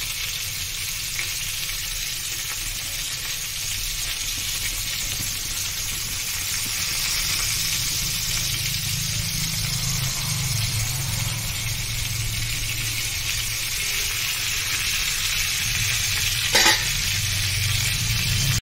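Chicken satay skewers sizzle steadily in a frying pan, turned one by one, a continuous close frying hiss with a brief clatter near the end and no talking.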